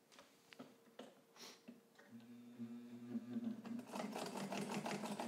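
A Necchi BU Nova sewing machine set to a long stitch length and wide zigzag starts after a few quiet clicks of handling. It then whirs up into a steady, loud mechanical chatter that runs on continuously.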